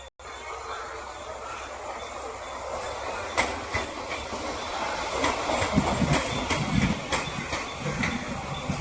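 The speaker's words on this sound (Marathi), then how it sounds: "आपली ट्रेन आलेली आहे" A train rolls in nearby with rumbling wheels, clattering rail joints and a rising, hissing roar as it draws close.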